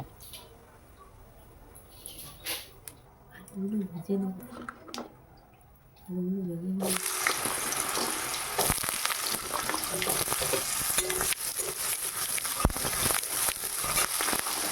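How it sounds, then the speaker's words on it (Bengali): Potatoes drop into hot oil with cumin, bursting into a loud, continuous sizzle that follows a quieter stretch with a voice speaking and then carries on hissing and crackling to the end. "জিরে দেওয়ার পরে আমি আলুগুলো ছেড়ে দেব।"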